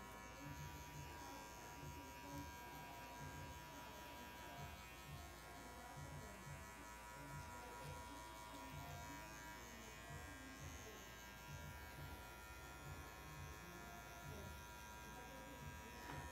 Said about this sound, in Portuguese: A gente vem pro pente 1. Aí eu vou abrir a regulagem aqui já